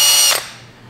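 A power tool whirs briefly as it cleans a sharpened tungsten welding electrode, a loud close burst that quickly spins down and fades within a second.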